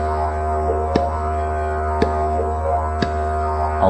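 A low, steady didgeridoo drone with three sharp tongue clicks, evenly spaced about a second apart, cutting through the sustained tone.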